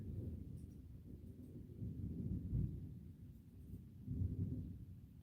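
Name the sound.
thunder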